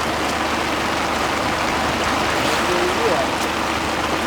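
Floodwater pours through a passage under a road during flooding on the route from the north toward Colombo, a loud continuous rushing roar filling the scene, with voices talking over it.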